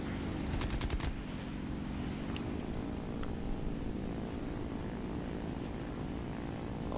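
Aircraft machine gun fire in War Thunder, played in VR, with a few quick bursts early on over a steady, loud propeller aircraft engine drone that fills the whole stretch.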